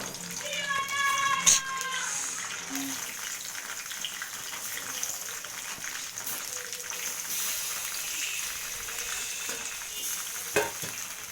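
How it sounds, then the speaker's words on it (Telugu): Chopped tomatoes and green chillies tipped into a hot pan for a tomato sesame chutney, soft steady sizzling with a few clinks and clatters, under someone talking. "పచ్చిమిర్చి 10 పచ్చిమిర్చి అండి, టమాటాలు కట్ చేసి పెట్టుకున్న టమాటాలు వేసేస్తున్నానండి"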